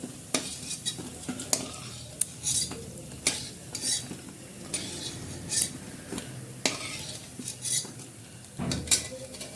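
Fried chicken-skin pakoras are lifted out of a frying pan. A metal utensil clinks and scrapes against the pan in irregular bursts over a faint sizzle of hot oil, with no voices.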